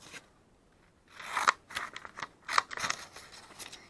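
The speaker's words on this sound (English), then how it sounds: "Let me cut the paper." Scissors snip through paper during a lip gloss wrapping craft: a silent pause, then a run of crisp, close cuts and crunches in irregular bursts.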